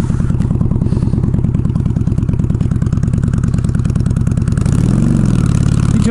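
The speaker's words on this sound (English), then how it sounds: "I'm trying to figure out like what this bike operates like, how it likes to ride, how it goes over bumps" A Honda Shadow motorcycle engine runs steadily and loud throughout a ride, its low rhythmic chugging pulsing evenly, then rising briefly in pitch near the end as the rider revs or accelerates.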